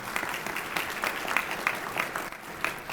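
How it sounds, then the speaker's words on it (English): Audience applause at an attainable housing stakeholder summit, a brief burst of moderate clapping with no talk over it. "That's, you clap for that."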